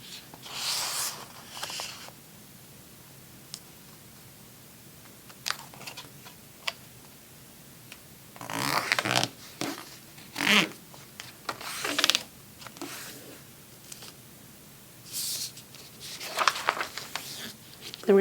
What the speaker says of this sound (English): we're going to take these two corners and we're going to fold them over